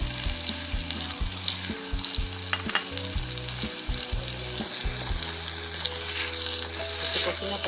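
Plantain sizzles in a hot pan with chipotle chiles while being stirred and moved around, a dense, steady crackle close by with occasional scraping and no voices.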